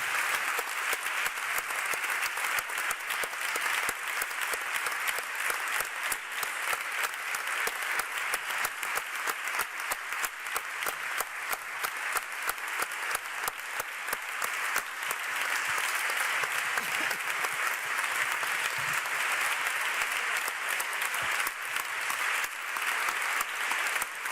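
A studio audience applauds steadily to close a live radio broadcast recorded in a parliament chamber in Toledo, the clapping dense and sustained throughout with no speech over it.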